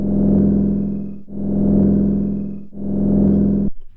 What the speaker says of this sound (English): they have managed to make the most annoying loading sound screen ever